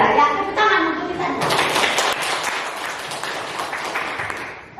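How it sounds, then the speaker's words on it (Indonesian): A classroom of grade 9 students breaks into brisk group clapping, loud and close, after a short burst of children's voices, then gradually thins toward the end. "tepuk tangan untuk kita"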